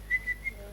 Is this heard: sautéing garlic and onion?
no